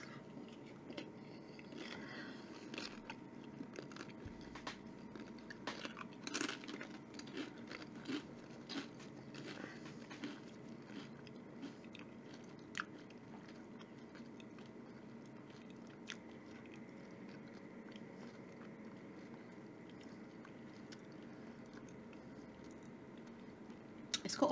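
Someone eating food drizzled with habanero chilli oil, quiet close biting and chewing with soft wet squishes and occasional crunches, no talking.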